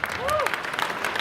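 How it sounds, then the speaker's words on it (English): An audience at a sci-fi convention Q&A with Christopher Lloyd breaks into applause, a dense crowd clatter heard at moderate loudness, with a voice rising briefly over it. "Totally worth an applause."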